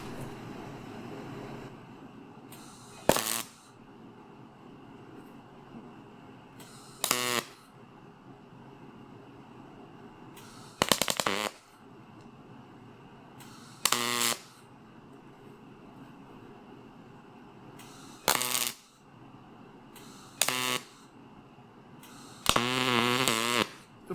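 Aluminum is welded to fill drilled holes in the dash of a 1953 bus, heard as seven short crackling arc bursts at regular intervals over a quiet background.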